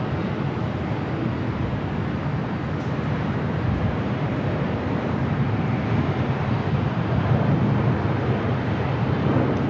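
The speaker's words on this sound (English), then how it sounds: "flight heading to Denver, Air Flight 2004. It's an A319." An Airbus A319 jet on a flight to Denver at Los Angeles airport, heard as a steady, loud broadband engine roar with wind buffeting that holds level throughout, no voices present.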